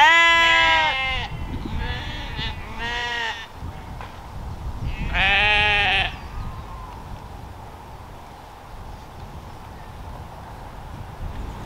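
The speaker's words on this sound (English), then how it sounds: "the noise of the traffic has been replaced by the noise of the sheep" Several loud sheep bleats ring out close by in a Cotswolds field near Broadway Tower in the first half, wavering cries separated by pauses, then fading into quiet open-air background.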